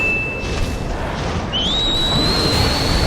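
A character in Ninja Gaiden 2 gives a whistled command: one steady high whistle tone, then after a pause a second whistle that rises and holds, heard over a loud continuous game background rumble.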